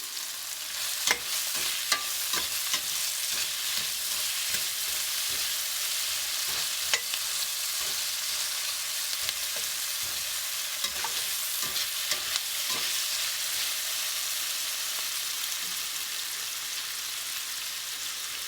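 Chickpea curry masala sizzles steadily in a pan on medium heat with salt just added, broken by intermittent scraping stirs, close and continuous with no talk.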